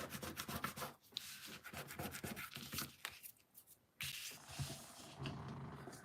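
A paper card is rubbed in quick, repeated strokes, a dry scratchy scrubbing close by that pauses briefly twice before resuming.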